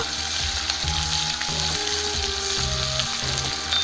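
Close, constant sizzle of ground spice paste frying in oil with cardamom, cinnamon, cumin seeds and bay leaves for chicken kosha, broken by repeated scraping strokes of a spoon against the pan.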